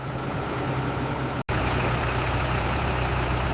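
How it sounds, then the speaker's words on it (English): Heavy trucks haul a potato harvest from the fields to a processing plant, a continuous loud low engine rumble with a brief cut partway through, no voices. "Trucks carry the harvest straight from the fields to the processing plant."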